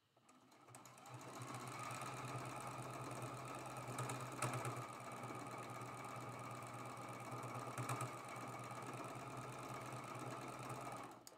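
A sewing machine runs steadily for about ten seconds joining slanted diamonds quilt block pieces, a close, even mechanical whir with slight rhythmic knocking.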